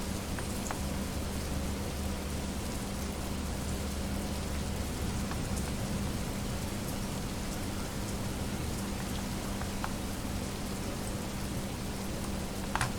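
Steady rain sound effect playing during a tabletop dungeon crawler session, an even, continuous hiss of falling rain at moderate level with no voices.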